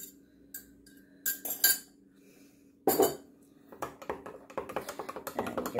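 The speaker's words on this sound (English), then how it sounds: "And you give that a nice mix around." Soda bread batter with honey and beaten egg is mixed in a bowl, with scattered clinks and taps of a utensil against the bowl that build into a quick run of rhythmic scraping knocks near the end.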